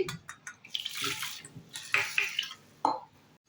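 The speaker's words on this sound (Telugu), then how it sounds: "నాలుగు కప్పుల నీళ్లు పోసి" Four cups of water pour and splash into a pot of rinsed red lentils in several short bursts, close and fairly clear, with light clinks of the vessel.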